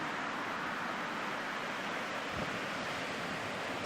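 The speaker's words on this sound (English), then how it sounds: "And in the background, the ocean." Steady broadband surf of ocean waves at Ocean Beach, San Francisco, a continuous wash with light wind noise on the microphone and a brief low thump near the middle, no voices.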